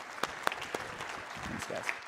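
Scattered clapping from a conference audience welcoming two speakers, a few sharp claps rising from a quieter patter, with a voice talking over it.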